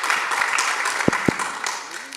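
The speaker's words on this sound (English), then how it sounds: "When the through-running skeptic gets applause at the through-running town hall" Applause from the audience at a Penn Station through-running town hall, a fairly quiet, continuous patter of clapping in the hall, with two sharp thumps near the middle and some background voices.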